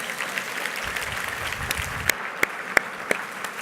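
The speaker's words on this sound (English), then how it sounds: "give him or her a round of applause" Audience at a conference luncheon clapping for the serving staff, a dense steady applause with some sharp individual claps standing out toward the end, no talking.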